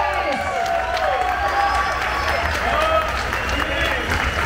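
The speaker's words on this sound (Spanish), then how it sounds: "¡Aplauso!" Audience applauds at the Dominican Republic Jazz Festival 2022 after an orchestra performance, a loud, steady wash of clapping and crowd noise with cheering and whistle-like tones throughout.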